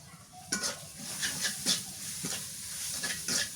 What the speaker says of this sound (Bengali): তেলের মধ্যে মশলাটা কষাই